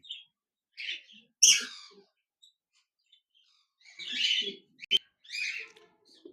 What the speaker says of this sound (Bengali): এখানে দেখতে পাচ্ছেন এক জোড়া লুটিনো রেড আই বাজরিকার পাখি রয়েছে